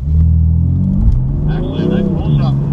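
BMW M4 race cars pull away from a standing start, a loud close engine rumble building as they accelerate, while a commentator talks over it.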